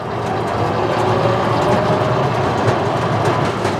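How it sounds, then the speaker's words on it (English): Continuous metallic rattling and clattering from a Landmaster AMP vehicle's steel bed under a steady rumble of motion while driving, dense and uninterrupted throughout. "you're gonna hear some of that noise from that bed rattling around"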